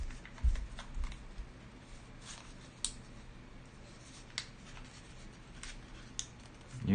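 Origami paper being creased into a petal fold for a Jun Maekawa peacock: soft, close crinkles and sharp little crackles at irregular intervals over a quiet background.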